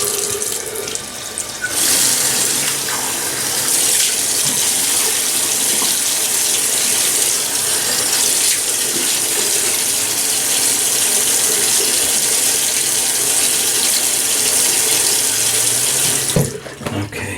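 Tap water runs steadily into a sink as the face is wetted before a shave, a loud continuous close-up gush lasting most of the time with brief splashes at the start and end.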